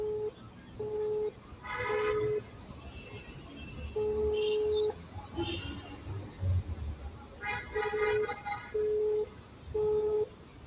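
A telephone line beeps in a repeating pattern of short tones, with bursts of keypad dialing tones between them, clear and fairly close against faint background noise.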